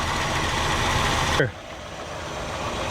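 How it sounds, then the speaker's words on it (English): A 1967 Ford Galaxie 500's rebuilt 289 V8 runs steadily with a slight valvetrain chatter, a dense close rumble that drops in level about halfway through, with no talking. "That old engine, it ain't perfect. She ain't perfect by no means. She still got a little chatter every now and again"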